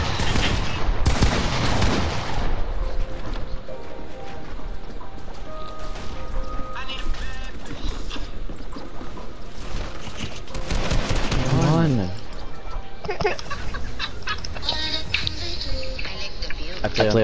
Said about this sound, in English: His gun shoots so fast.